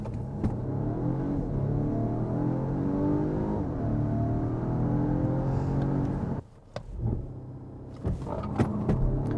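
A Volvo V60 Recharge T8 plug-in hybrid estate accelerates hard from a standstill toward 100 km/h, its engine droning and rising in pitch for about six seconds before cutting off abruptly, followed by quieter clicks and thumps.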